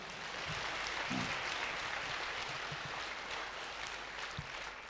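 A church congregation claps loudly and steadily during a Punjabi-Hindi sermon. The clapping is a dense, continuous wash of many hands and holds at an even level throughout.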